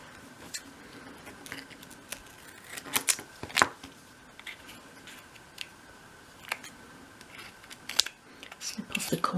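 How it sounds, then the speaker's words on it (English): Scissors snip around the edges of masking tape on the open bottom of a 1/12th scale barrel, giving scattered short crisp cuts close by, a few louder clusters, with no talking. "I'm going to snip round those edges."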